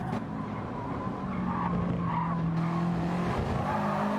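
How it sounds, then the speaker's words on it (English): Race cars on the back straight of the Catalunya circuit in a racing game, a steady loud engine drone with tire squeal and skidding running throughout, several cars bunched together in a slipstream. "So all these cars try and push down this back straight."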